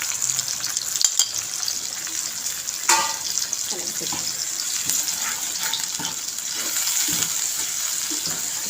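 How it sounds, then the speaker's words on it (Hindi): Steady crackling sizzle of a spice paste with salt, chili and turmeric frying in a pan, with occasional scraping stirs and clinks, close by and continuous throughout. "इस मसाले को थोड़ी सी भुनाई कर लेते हैं मसाले की।"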